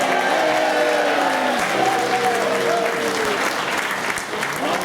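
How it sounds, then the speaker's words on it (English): A dining-room audience aboard a cruise ship applauds the Indian executive chef, dense continuous clapping with cheering voices, loud and close, fading slightly toward the end. "he usually receives the loudest round of applause"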